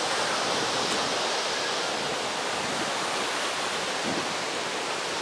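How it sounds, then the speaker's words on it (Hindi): Naga Falls waterfall pouring from a great height, a steady, loud broadband roar of falling water that fills the whole clip without letup, close by and unbroken, with no voices heard over it. "वो देखिए काफी ऊपर से पानी आ रहा है"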